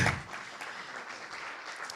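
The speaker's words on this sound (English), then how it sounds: "You can give Perry a round of applause." An audience gives a speaker a round of applause, with a faint, steady patter of clapping from a distance after a brief louder burst at the start.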